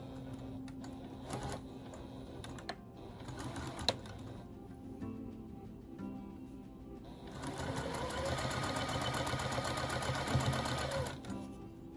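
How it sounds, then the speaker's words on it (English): Sewing machine stitching a long strip of fabric onto a butterfly log cabin quilt block, a steady close mechanical whir that runs in short bursts at first, then settles into a louder continuous run with no voices. "And I'm going to sew it on."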